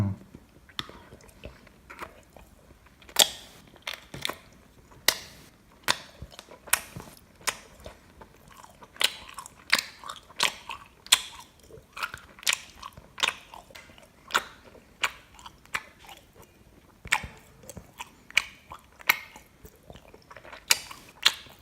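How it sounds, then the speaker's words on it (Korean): Close, sticky chewing of a dense, taffy-like food, a steady run of sharp wet smacks and clicks repeating for the whole stretch with no talk. "굉장히 꾸덕꾸덕합니다. 그리고 씹기가 쉽지가 않아요."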